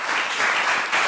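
Audience applause for the speakers at a foundation talk on the microbiome, a steady dense clapping filling the hall for a short burst, close and fairly loud with no voices.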